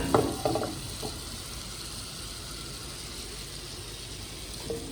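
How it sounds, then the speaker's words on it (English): Butter heats in a hot pan for a Cajun ribeye, giving a steady, fairly quiet sizzle that continues throughout, with a few brief clatters of pan movement near the start and end. "I want to get this butter nice and hot."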